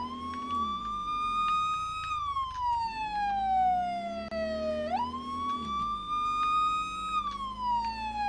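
A police car siren in the Brick Rigs video game wails loudly and steadily, its pitch sliding down and swooping back up in long sweeps over a faint engine hum.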